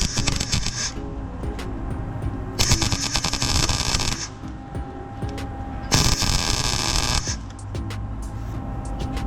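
Arc welding builds up weld on a broken exhaust manifold stud on a 2009–2018 Ram 1500 Hemi, with a steady crackling buzz that surges loudly in bursts and drops between passes.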